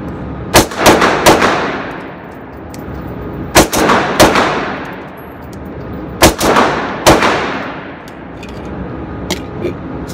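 A Taurus PT1911 pistol firing rapid clusters of loud, close shots at a range, each group of two or three reports spaced a couple of seconds apart, as spent cases eject between them.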